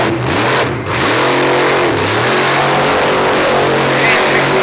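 A monster truck's engine revs hard in repeated surges during a freestyle run at a Monster X Tour show in Evansville, Indiana, loud and close with rising and falling pitch.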